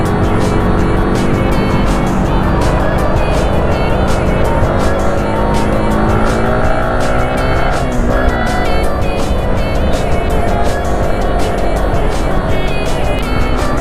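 A group of roughly fifteen to twenty motorcycles rides together, producing a loud, continuous layered engine drone with a nearby machine sweeping past midway.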